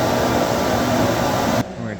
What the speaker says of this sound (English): And here's the vacuum motor.